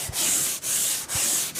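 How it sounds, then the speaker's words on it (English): Rhythmic back-and-forth sanding strokes on body filler on a car panel, three or four long hissing passes with brief pauses between, close and steady. "it's really sanding up quite well"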